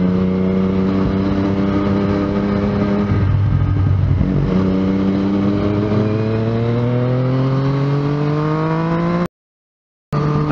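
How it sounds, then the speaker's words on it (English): A motorcycle ridden on the road by a rider with poor suspension, the engine droning steadily and close, rising and falling in pitch with throttle changes, before cutting out abruptly for about a second near the end. "Can't you see I'm out riding my motorbike?"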